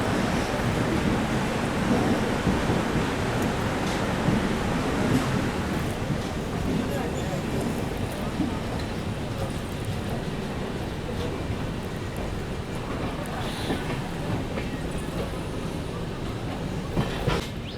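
The Janmabhoomi Superfast train runs in push-pull formation behind WAP7 electric locomotives, giving a loud, continuous rumble and rushing noise with no clear breaks for nearly eighteen seconds.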